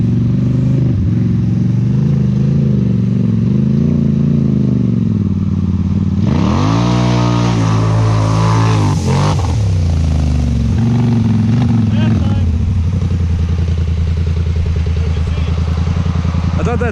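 Polaris and Can-Am off-road vehicles send it through small holes, their engines roaring loud and close throughout. The revving surges and strains in the middle, with voices partly buried under the noise.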